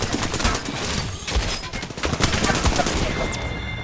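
Dense gunfire in the online shooter Apex Legends: overlapping bursts and rapid shots, loud and continuous throughout, with a voice speaking briefly in the mix.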